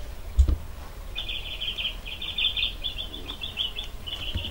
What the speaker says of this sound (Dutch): Ik hoor het vogeltje zingen.